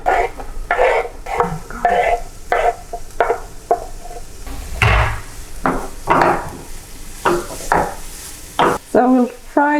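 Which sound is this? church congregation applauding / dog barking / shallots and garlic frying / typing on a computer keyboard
shallots and garlic frying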